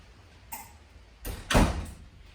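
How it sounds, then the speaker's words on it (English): A front door is pushed shut at home during rain, a light knock followed by a louder thudding close, near and alone. "I just had to shut that front door because I didn't want all the rain to come into my home."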